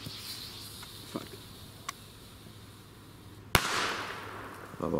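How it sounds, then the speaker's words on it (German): A Diamond China-Böller D firecracker bangs once, a single sharp loud blast with a crackling tail, after a few faint pops and rustles in the outdoor quiet. "das ist der China-Böller-D von Diamond."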